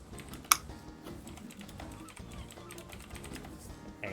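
Soft, steady clicking of keys on a computer keyboard runs throughout at a low level, with one sharper click near the start and faint room noise beneath.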